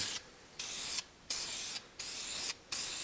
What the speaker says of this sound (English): Okay, now it's time to begin the painting.